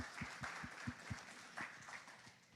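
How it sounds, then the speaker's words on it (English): A small audience applauds at a fireside chat event, a short burst of scattered, fairly faint clapping with distinct individual claps. "Everyone just give her a round of applause."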